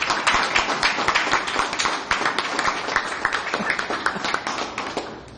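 Audience in a training session clapping for a young girl, a dense steady burst of many hands applauding together at close range, sustained for several seconds before tapering off.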